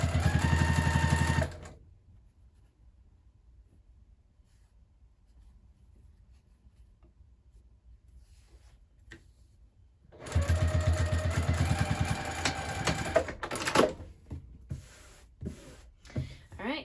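Sewing machine top stitching a handbag, a steady rapid mechanical whir near the mic that runs, stops for a long quiet pause, then starts again with some clicks and handling noises.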